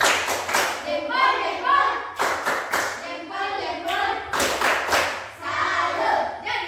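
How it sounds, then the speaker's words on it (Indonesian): A group in a classroom lesson gives a rhythmic salute clap, quick hand claps mixed with chanting voices in a steady, loud pattern. "Tepuk salut buat Rina."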